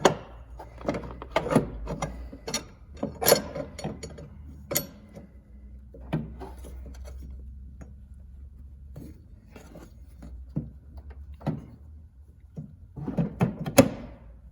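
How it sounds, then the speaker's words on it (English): BDX Super-Lite brake rotor being slid into place during installation, a run of scattered metallic taps, scrapes and thunks, close and fairly quiet, with no talking. "now we're going to install the new Super-lite brake rotor"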